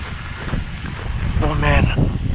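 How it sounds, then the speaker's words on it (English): Rough, blustery wind during a cold front buffets the microphone throughout, with a voice briefly speaking over the rushing noise. "It's windy."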